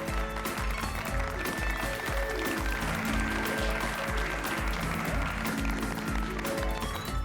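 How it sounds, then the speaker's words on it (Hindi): A studio audience at a comedy show claps continuously, a dense, loud wash of applause with steady rhythmic hand claps running throughout. "ये तो अभी से ही तालियां बजा रहे"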